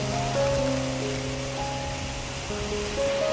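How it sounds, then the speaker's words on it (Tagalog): Steady rain falling in a dense, even hiss, with breezy wind and low tonal background hums running throughout. "Oh my gosh, it's raining"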